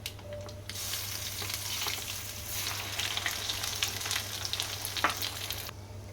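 Ginger garlic paste hits hot oil with a sudden loud sizzle that holds steady for several seconds, with a few stirring scrapes and no talking.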